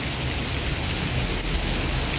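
Heavy rain pours steadily in a dense, unbroken roar, loud and close, with no voices.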